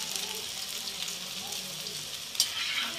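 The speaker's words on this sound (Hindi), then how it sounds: "और फिर तेज आँच में फ्राई कर दूंगी" Manchurian vegetable balls deep-frying in hot oil over high heat, a steady close crackling sizzle with a brief clatter near the end and faint background murmur.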